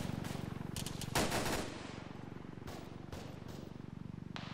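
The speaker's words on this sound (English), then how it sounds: "There's an AR or something to our southwest shooting at us." In the military simulation game Arma, an AR rifle fires from a distance: a rapid volley and scattered cracks crackle faintly over a low, purring background hum, with a louder burst early on.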